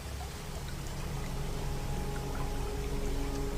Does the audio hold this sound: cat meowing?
no